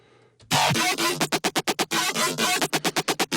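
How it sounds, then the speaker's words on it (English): A bass line from a DJ Hero mix, crushed by extreme compression into a dense, gritty, distorted wall that pumps in rapid, choppy rhythmic bursts, loud and alone. "you'll really hear that squeezed, crushed sound like this"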